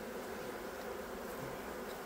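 Honeybees hum at a hive being readied for winter, a dense, even buzzing of many insects that holds steady and fairly faint throughout.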